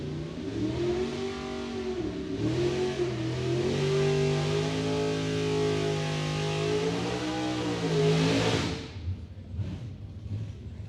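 A Superstock J automatic Corvette launching down a drag strip, its engine revving hard and climbing through the gears in loud rising sweeps before cutting off abruptly near the end, leaving faint crowd and track noise.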